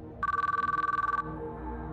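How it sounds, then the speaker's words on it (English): A telephone ringing tone from the visual novel game Chaos;Child: one clear, rapidly pulsing electronic trill that lasts about a second and then stops, heard alone over faint background music. "I decided to call Adamura"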